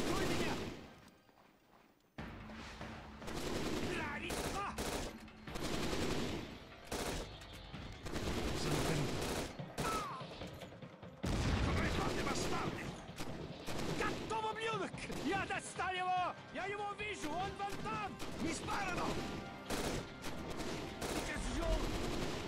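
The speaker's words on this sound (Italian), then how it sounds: "Mi sparano!" Sustained gunfire from the video game Syphon Filter: Dark Mirror, with bursts of automatic fire and scattered single shots running through a busy battle soundscape, loud throughout, while someone talks over it.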